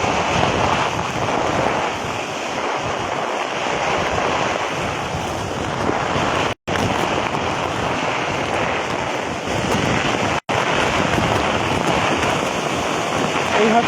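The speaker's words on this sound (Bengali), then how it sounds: "এখানে দেখা যাইতেছে প্রচুর বাতাস" Cyclone Remal brings heavy wind and rain at Naltona in Bangladesh, a loud continuous roar of gusts buffeting the microphone, with two brief dropouts.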